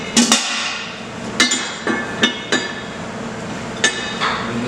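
Metal paddle attachment for a 20-quart commercial mixer clinks sharply against the mixer several times, a string of bright, close metallic taps with short gaps between them and no talking.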